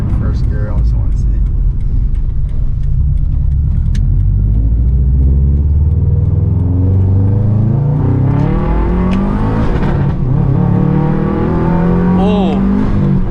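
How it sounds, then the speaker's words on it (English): A 2009 Subaru WRX accelerates hard in first gear as a loud, continuous engine roar rises in pitch from inside the car, then shifts near the end, with people talking over it. "Do a little pull right here in first gear."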